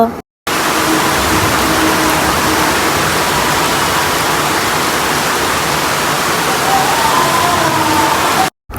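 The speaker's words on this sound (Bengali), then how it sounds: "বর্ষাকালে সেই ভারী বৃষ্টি শুরু হয়ে গিয়েছিল" Heavy monsoon rain pouring down, a dense, continuous hiss of rainfall heard from a verandah, steady and loud throughout with no voices.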